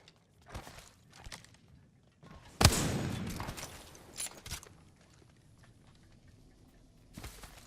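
Gunfire in the Apex Legends video game: a sharp loud burst of shots cuts in partway through, followed by a dense rattling stretch and scattered later shots, with quieter footsteps and game movement before and after.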